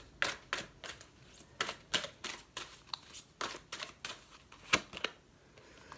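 Tarot advice cards are drawn and laid down during a reading, giving a run of short, crisp card snaps and flicks at an uneven rhythm, close and fairly quiet, with no talking.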